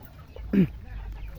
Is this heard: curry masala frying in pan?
no